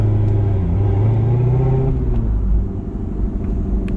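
A manual transmission car revs loudly up close, its engine note rising steadily before easing off as the clutch engages and it pulls away, leaving a lower rumbling drone.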